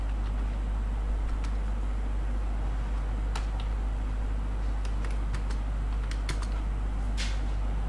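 Keys tapped on a computer keyboard while a search for birds in the sky is entered, a sparse run of light clicks over a steady low hum, close and fairly quiet, with no voices.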